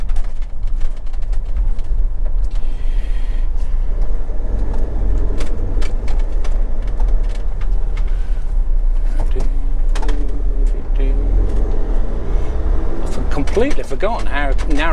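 A car's steady engine and road rumble carry through a tight, narrow lane squeezed by parked wide cars, continuous and close, with people talking over it throughout.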